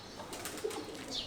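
Pigeons at a small home mini zoo, soft close cooing with a brief flutter of wings, quiet and without talk.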